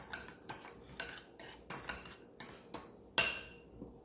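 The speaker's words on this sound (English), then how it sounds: "I'm gonna combine all of this together." Banana bread batter with plain yogurt being mixed in a bowl for Jamaican banana bread, heard as a steady series of about eight crisp utensil clinks and scrapes against the bowl, evenly spaced and close, with no talking.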